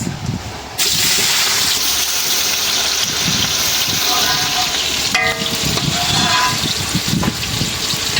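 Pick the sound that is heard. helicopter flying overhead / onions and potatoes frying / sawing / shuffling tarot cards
onions and potatoes frying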